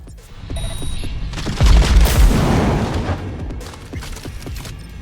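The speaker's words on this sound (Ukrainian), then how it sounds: "Звідки в мене стріляють?" Enemy gunfire erupts in the video game Cyberpunk 2077 Phantom Liberty: loud bursts of rapid shots and heavy booms swell into a dense barrage, then thin out into scattered cracks.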